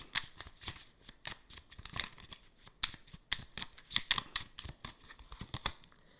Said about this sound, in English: Let's pull a Hype Man card here.